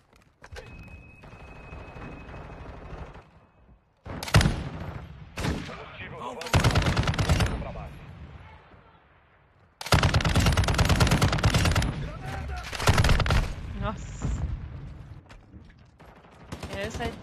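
Bursts of rapid automatic gunfire in a video game, several loud volleys separated by pauses, with a voice talking in between.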